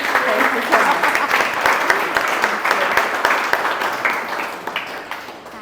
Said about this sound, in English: I would ask you for a round of applause for our artist